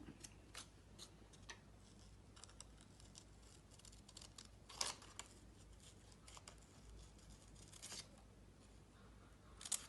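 Scissors cutting out a small paper Easter candle, giving faint, close, irregular snips and ticks against a quiet background.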